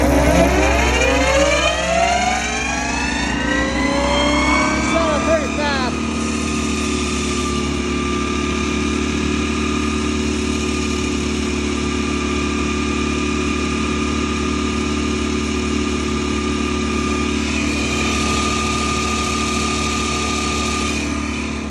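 A Cat 316E excavator runs a Gyro-Trac 400 HDM mulcher head as it spins up, the hydraulic whine rising steeply over the first few seconds and then settling into a loud, steady high-pitched drone over the engine rumble.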